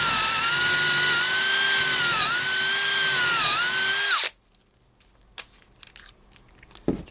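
A cordless drill driving a screw whines steadily for about four seconds, its pitch dipping briefly under load, then stops, followed by a few faint clicks and knocks.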